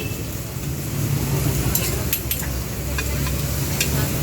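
Sisig sizzles steadily on a hot plate as it is cooked, a constant close hiss and crackle with a low background hum and a few faint metallic clinks.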